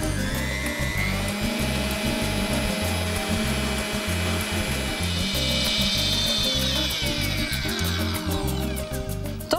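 An electric mixer whips soy cream with pudding in a bowl for a vegan cheesecake, a steady close motor whir with rhythmic beater chatter running throughout, no talking.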